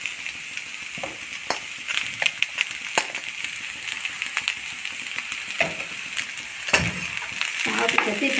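Rice is stirred into sautéed mango and carrot in a pan for mango pulao, with a soft sizzle beneath irregular scraping and clinking of the spoon, close and moderate, while a voice talks over it.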